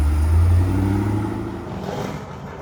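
A Corvette C5 backing out and pulling away on a test drive, its engine giving a loud low rumble at first that eases and fades as the car moves off.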